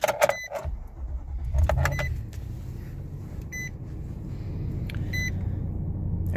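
A car with a backup camera and just over 100,000 kilometers starts up. A few electronic chimes and beeps come first, then the engine catches into a steady low idle rumble that holds close and even to the end.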